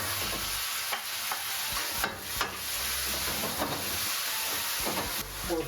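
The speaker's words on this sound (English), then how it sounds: "Well, the beef is kind of settling in the pan." Beef fries with chilies in a pan, giving a continuous close sizzle and hiss with occasional stirring scrapes, steady and loud throughout, with no talking.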